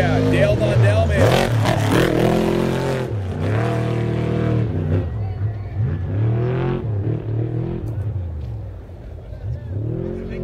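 A race truck roars uphill on the gas at the start of the 2018 Parker 425 off-road race, its engine loud and revving hard, with an announcer talking over it and crowd noise around.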